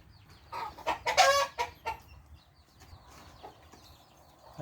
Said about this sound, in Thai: ไก่ชนไก่ร้องใหญ่เลย